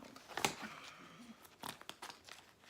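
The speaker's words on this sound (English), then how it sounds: "the sticky is sticking to my scissors, so it's like making it hard to cut" Scissors cut and crinkle through a sticky diamond painting sheet, giving a few faint, close snips and tearing rustles with short pauses between them.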